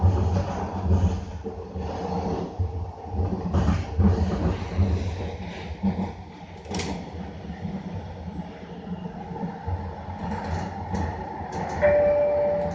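A SkyTrain light metro train on Vancouver's Evergreen Line rumbles along the track with rhythmic clatter and a rising, falling motor whine, heard from inside the car.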